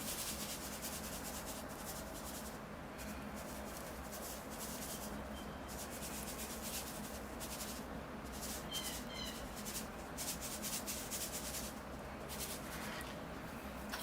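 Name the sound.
sand scooped into a bonsai pot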